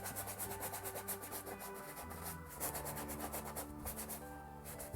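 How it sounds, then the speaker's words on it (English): A brush scrubs paint onto a collaged painting, pushing back branch shapes with quick repeated rubbing strokes, a close, continuous scratchy texture with a steady rhythm. "And just scrub it in there."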